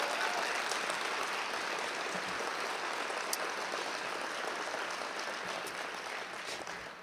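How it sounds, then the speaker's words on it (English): Sustained audience applause at an anniversary celebration event in East Lansing, a steady dense wash of clapping lasting throughout and tapering slightly at the end, with no talk over it. "So could you give me a round of applause as well for Kurt Dewhurst and Marcia McDowell?"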